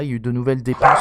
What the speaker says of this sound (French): c'est le chien qui gueule